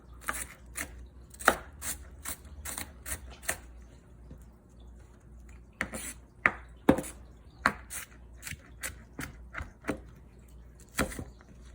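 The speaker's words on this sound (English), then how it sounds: "You have to cut it really finely because that little thing makes the paste." A knife chops onion finely on a cutting board in quick irregular clusters of crisp taps, close and fairly quiet, with short pauses between bursts and no talking.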